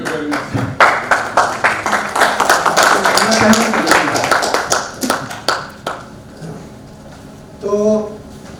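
An audience at a network marketing gathering claps for guests: loud, distinct hand claps in a quick rhythmic run that thins and fades out after several seconds, with voices briefly afterward.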